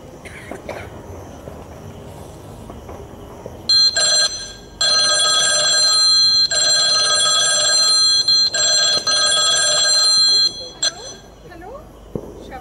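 A telephone rings in bursts for a call to a son in a home skit, a bright trilling bell repeating several times at close range, with brief voices before and after the rings.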